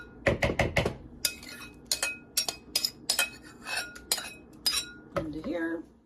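Potato salad being scraped from one bowl into a larger bowl, a rapid cluster of close clinks and knocks of utensil on bowl, then scattered taps and clatters with a brief low murmur near the end.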